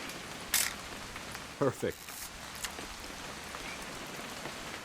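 Rain falling in What Remains of Edith Finch, a constant soft hiss throughout, interrupted by a couple of brief clicks and a short spoken word.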